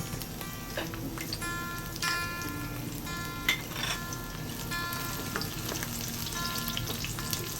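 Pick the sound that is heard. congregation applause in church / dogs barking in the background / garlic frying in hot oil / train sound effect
garlic frying in hot oil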